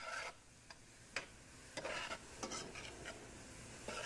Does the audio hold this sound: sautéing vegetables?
yes